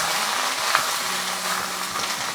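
Carrots frying in oil in a pan, a steady, close, dense sizzle that holds evenly throughout with no talking.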